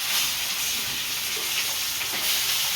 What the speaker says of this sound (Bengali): এই ভাজা মাছগুলো এর মধ্যে দিয়ে দেবো এবার।